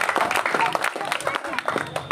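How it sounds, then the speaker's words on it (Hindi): Crowd of children and adults clapping loudly in encouragement at a community gathering, dense steady applause lasting a couple of seconds with some voices mixed in. "सभी बच्चे और सभी लोग जोर से ताली बजाकर बच्चे का हौसला अफजाई करने का काम करें"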